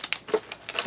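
Soft plastic bag crinkling as a lump of clay is wrapped back up, a few quiet rustling bursts spread over under a second, close by with no talking.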